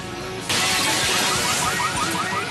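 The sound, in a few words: shop windows being smashed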